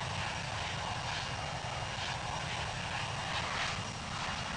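Aircraft engine roaring in a steady, broad rushing drone at London Heathrow, even and moderately loud throughout, with no voices over it.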